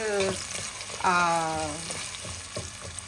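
Thin-sliced onions and green chillies fry in a pan for an eggplant and egg curry, a soft sizzle under stirring clatter with a few sharper tonal scrapes.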